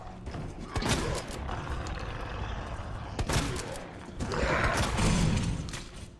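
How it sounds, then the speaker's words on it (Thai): Shotgun blasts ring out in Resident Evil 2 Remake as a few separate heavy shots, spaced a couple of seconds apart. Mechanical reload clatter and rumbling fill the gaps at moderate loudness. "มาซองยิงอกเลยนะ"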